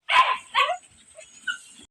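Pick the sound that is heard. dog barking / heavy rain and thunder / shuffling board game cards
dog barking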